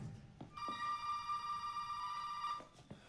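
In the Resident Evil 7 video game, a telephone rings with one long, bright electronic ring lasting about two seconds, set against a quiet, dim background with faint clicks before and after.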